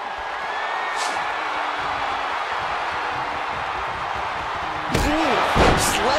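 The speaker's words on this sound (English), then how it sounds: "Sledgehammer to the body." Heavy sledgehammer blows land on a body in a wrestling video game casket match, two or three loud thuds near the end over constant crowd noise and commentary.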